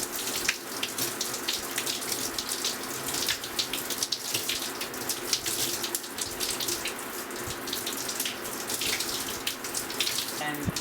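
Running water from a tap rinses conditioner out of high-porosity natural hair, a steady splashing stream that continues unbroken, close and fairly loud.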